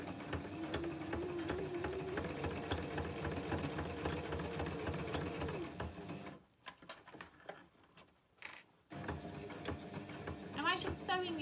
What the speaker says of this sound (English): sew a top stitch around the top edge of my Velcro and the bottom edge of my Velcro